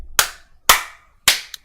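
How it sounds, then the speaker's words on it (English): Three sharp hand claps ring out one after another at an even, deliberate pace, loud and close in a small room, with nothing else heard between them. "3 claps for fanfiction review"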